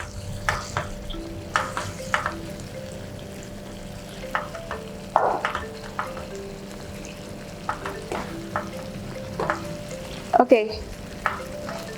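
Tiger prawns cooking in boiling Kung Pao sauce in a wok, with steady sizzling and bubbling under a low hum, punctuated by scattered scrapes and stirring clanks that grow sharper near the end.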